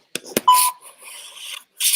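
Incoming phone call alert during a live stream: a few short electronic beeps and tones, clear and close, with brief gaps of silence between them.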